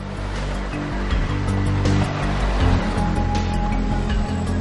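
Sea waves roll onto a beach where kitesurfers ride, a steady, loud, broadband wash of surf with slight swells in intensity throughout, no voices.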